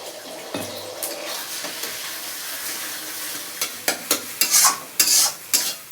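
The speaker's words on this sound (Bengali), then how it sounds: "ডিমটা ভেজে নেব" Egg frying in white oil with spatula stirring, steady sizzle building to louder scraping strokes and bright spattering bursts toward the end, close and without talk.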